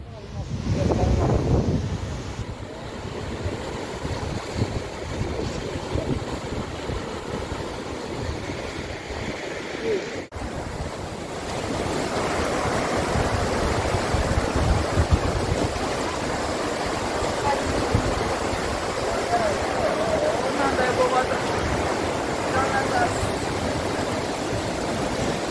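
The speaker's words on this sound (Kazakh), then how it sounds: "Mынау судың бәрі Байқадамға келе тұр." Flood water rushes toward the village of Baiqadam as a continuous loud roar of moving water, heavy and unbroken, with wind buffeting the microphone and a voice faintly under it.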